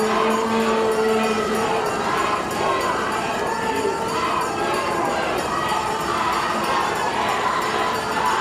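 A regatta crowd cheers steadily and loudly near the finish of a rowing race, a dense wall of shouting and yelling voices that holds strong throughout.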